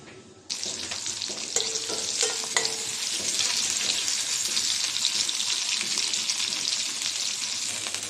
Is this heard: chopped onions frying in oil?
yes